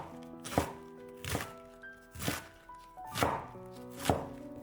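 A knife chops lettuce into strips on a cutting board, five evenly spaced, crisp thuds at a slow, steady pace, close and clear with a quiet background.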